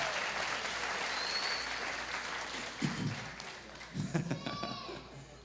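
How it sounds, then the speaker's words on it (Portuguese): A church gathering bursts into applause that fades over a few seconds. Voices and laughter break in near the end. "Salva de palmas para Isaac."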